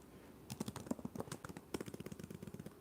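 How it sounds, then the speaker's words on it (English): Rapid keystrokes on a computer keyboard in a quiet librarian-themed ASMR setting, a close, soft, irregular clatter of taps running steadily with brief pauses. "I'll keep typing though."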